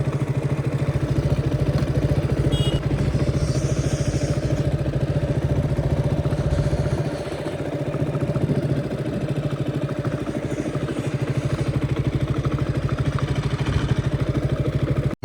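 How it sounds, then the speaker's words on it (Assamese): Motorbike being ridden on a cold, foggy day, its engine a steady close rumble throughout with a brief dip in the middle. "চ' বাইকখন লৈ অলপ ওলাই আহিছিলোঁ।"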